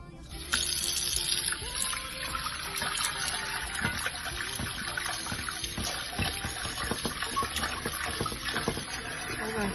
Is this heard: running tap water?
yes